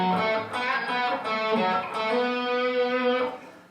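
Distorted electric guitar fill from a song, a fast run of sustained overdriven notes with bends and slides, loud and alone.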